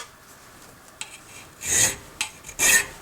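A hand file rasps against a metal folding knife part in a few separate, close strokes: a short rub first, then three louder scraping passes about half a second apart.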